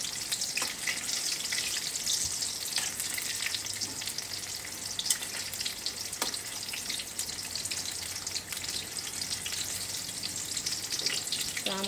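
Slices of spiny gourd (kakrol), battered like beguni, fry in hot oil with a steady close sizzle and crackle throughout, broken by occasional sharp pops and faint clinks of turning.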